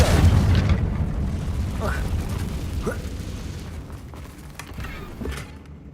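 The Confringo fire spell bursting in the Hogwarts Legacy game, a loud rumbling blast that fades over a few seconds under creaks and faint crackles.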